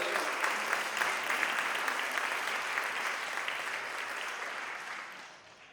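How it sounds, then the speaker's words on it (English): Warm audience applause at an Indian dance and music program, a dense, even wash of clapping from many hands that holds steady, then fades away at the end. "Let's give another warm round of applause for Sri Subra Vishwanathan."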